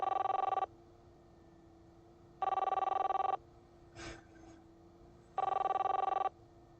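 An old-style telephone bell rings in three separate bursts with pauses between, with a brief faint knock or click in one gap, in a radio drama.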